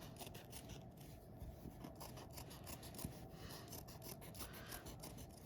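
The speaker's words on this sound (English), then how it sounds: "I can cut out several at a time with my good fabric shears" Fabric shears cut through several layers of fabric at once for classroom puppet making, a soft continuous rasping and rubbing close by, faint and unbroken, with no talk.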